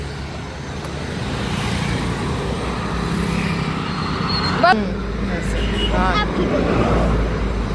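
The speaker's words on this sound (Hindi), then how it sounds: "गाड़ी आ रही है बहुत तेज।" A vehicle approaches fast on a road over steady traffic rumble, growing louder toward the end, while people talk briefly nearby.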